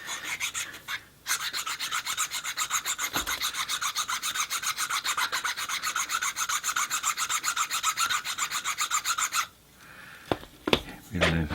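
A hand tool is shaving a wooden part flat for a fishing rod clamp, giving a steady run of rapid, rhythmic rasping strokes up close, then stopping with a few scattered knocks.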